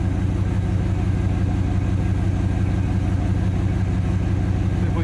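A 1965 Chevrolet Bel Air engine idles steadily on its first run after 27 years, with a loud, continuous low rumble close by; any light lifter tapping sits buried under the running engine.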